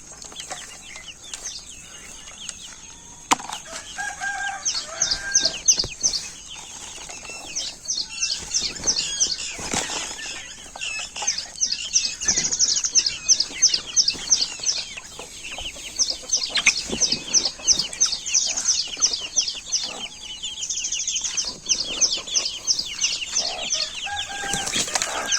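Native chicken chicks chirp in rapid, high-pitched bursts close by, with soft fluttering and rustling scattered through a long, busy stretch and no talk.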